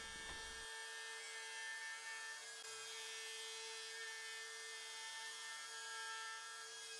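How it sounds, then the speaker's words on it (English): Router cutting freehand into curly maple, a steady high-pitched whine with a constant tone, faint but unbroken throughout, preceded by a brief low thump at the start. "move the board to where you are actually pulling the router towards you instead of trying to go left to right"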